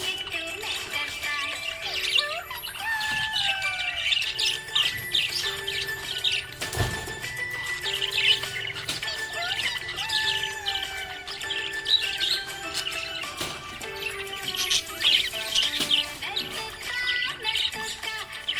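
A budgie parrot chirps and tweets almost nonstop in busy, bright warbling bursts with occasional squawks, fairly close and alone throughout.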